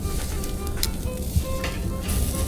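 Steak, chicken and shrimp fajita meat sizzles on a grill, a steady close hiss with small pops throughout, no talking.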